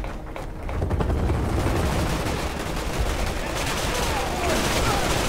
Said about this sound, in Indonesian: Wah, udah tembak-tembakan aja, Blay.